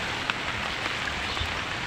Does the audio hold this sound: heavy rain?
yes